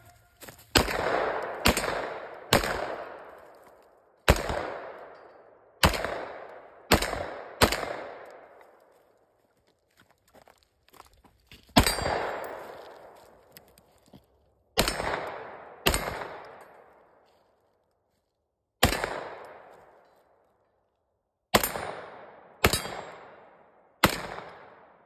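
A Grandpower Stribog is fired at an outdoor range at steel targets, with sharp loud reports followed by ringing metallic clangs. They come in quick clusters of two or three, separated by brief pauses, with the strikes decaying into a long ring.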